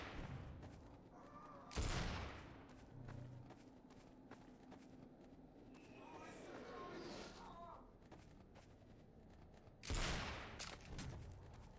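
Two heavy, booming Bear Killer gunshots in E.Y.E Divine Cybermancy, spaced several seconds apart, with footsteps and quieter game noise in between and a voice talking.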